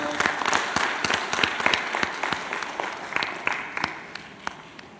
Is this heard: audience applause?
yes